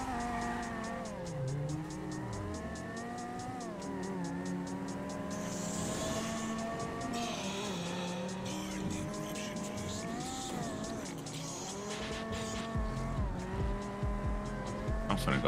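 A stolen car in the GTA video game speeds off, its engine revving and rising in pitch through the gears, with bursts of tire squeal and passing traffic, close and steady beneath talking voices.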